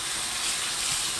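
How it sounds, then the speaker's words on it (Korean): Blanched pepper leaves are rinsed in cold water, a continuous close hiss of running, splashing water with no voices. "바로 찬물에 헹굽니다"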